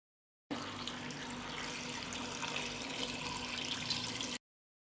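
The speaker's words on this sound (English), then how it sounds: "I pour 2 liters of water." Water pours steadily into a pot of plums for about four seconds, a constant splashing, trickling stream heard close with no talk.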